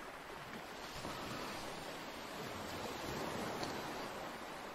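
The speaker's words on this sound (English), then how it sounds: "These waves are awesome." Steady broadband wash of sea waves rolling in a video game ocean scene, a continuous surf roar with faint wind, no voices.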